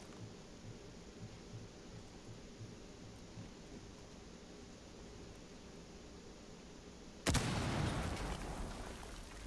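A breaching explosion blasts through a floor in the tactical shooter Rainbow Six Siege on the Consulate map, a sudden loud burst with lingering debris rumble after a stretch of quiet background ambience.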